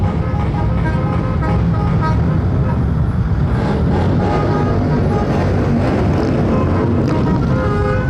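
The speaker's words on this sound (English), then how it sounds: "There's the honor flight bus here." An Honor Flight bus for veterans rolls along in a traffic-filled escort procession, a steady loud roadway rumble with a brief horn toot and crowd noise around it.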